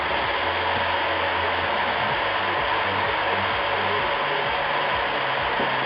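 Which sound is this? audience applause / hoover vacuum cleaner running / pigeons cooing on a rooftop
hoover vacuum cleaner running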